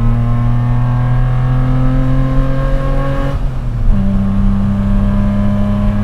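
A custom 1986 BMW E30 accelerating hard on a winding road, its engine droning loud and close as the revs climb steadily, then dip sharply at a gearshift and pull strongly again.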